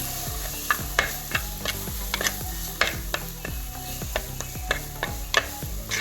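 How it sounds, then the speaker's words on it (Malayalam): Dried red chillies, coriander and tomato sizzle on low flame in a hot pan for crab ghee roast while a spatula scrapes and stirs in a steady rhythm, repeated clacks against the metal, close and clear. "അപ്പോൾ ഫ്ലെയിം വളരെ കുറച്ച് ലോയിൽ വെച്ചിട്ട് നന്നായിട്ട് വഴറ്റാം."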